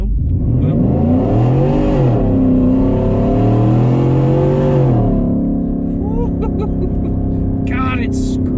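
A Roush-tuned work truck making 600-plus horsepower accelerates hard from a dead stop, its loud exhaust droning and rising through gears very close, then easing off to a steady cruise.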